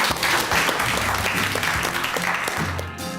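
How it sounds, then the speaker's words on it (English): A class of pupils in a 1950s-style school setting claps together, dense and steady applause filling the room for about three seconds before thinning slightly at the end. "Let's clap."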